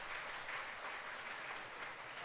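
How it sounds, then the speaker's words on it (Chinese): A church congregation applauds during a Sunday worship service, with soft, even clapping that sounds distant and continues steadily throughout. "来这里给她鼓掌，快恭喜！"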